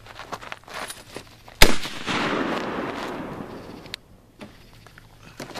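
An AR-15 rifle fires reloaded .223 ammunition outdoors: one sharp, loud report with a long echoing tail, then a second fainter crack, among scattered small clicks and handling noises.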